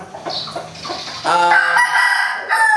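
A straight-combed fighting gamecock clucks briefly, then lets out a loud, close, drawn-out crow that fills the rest of the moment.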